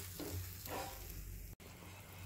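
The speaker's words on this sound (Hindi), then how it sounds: "अभी मैं पानी दे रही हूँ, इसको अच्छे से उबलने देंगे" Water goes into a hot pan of drumstick and fish curry, giving a steady, moderately loud sizzle and bubbling with a few soft stirring scrapes and a brief break near the end.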